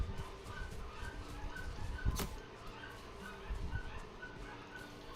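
Dogs in the video game Valheim, a faint yip or bark over a low rumbling game ambience, with no other sounds standing out.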